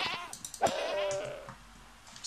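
A goat in Minecraft gives one clear, wavering bleat near the middle of a short stretch of quiet game ambience, close and fairly loud.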